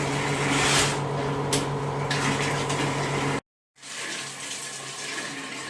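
Water rushes steadily through a heating radiator driven by an ERYIL TTM-02 cleaning machine, a continuous hiss and gurgle that cuts to silence briefly before resuming more softly, with no talk.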